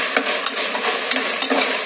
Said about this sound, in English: You need to deep fry it.